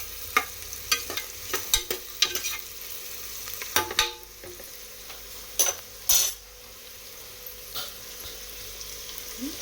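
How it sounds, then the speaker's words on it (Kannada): Onions frying in a pan for chicken biryani, a soft steady sizzle broken by sharp scrapes and clinks of a spoon stirring against the metal. "ಇಲ್ಲಿ ಕೂಡ ಆನಿಯನ್ ಚೆನ್ನಾಗಿ ಫ್ರೈ ಆಗಬೇಕು."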